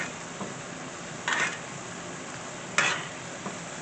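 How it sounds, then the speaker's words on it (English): Ribeye steak sizzling in a tilted pan with fresh herbs while being basted, a steady frying hiss broken by two brief brighter splashes of spooned fat, close and alone without talk. "You kind of tilt it and you baste it."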